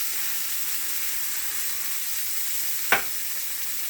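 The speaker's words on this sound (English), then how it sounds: "we just listen to that sizzle" Steady, even sizzling of a keto Juicy Lucy burger patty frying in a hot pan, with one brief sharp crackle near the end; no voices.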